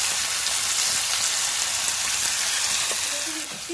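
Washed chicken pieces hit hot oil in a kadai and fry with a loud, dense, continuous sizzle close by; the hiss eases slightly near the end.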